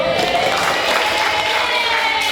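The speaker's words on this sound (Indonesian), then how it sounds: "Kasih tepuk tangan dulu" A class applauding the third-place winner of a learning game, with steady, dense clapping and light crowd noise throughout, fairly loud and close.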